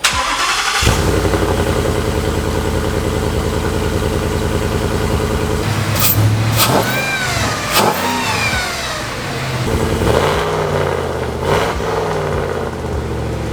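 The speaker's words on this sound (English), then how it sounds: "Take a listen to the exhaust now." A truck's exhaust revs through several throttle blips, rising and falling sharply over a steady rumbling idle, loud and close, with no talking.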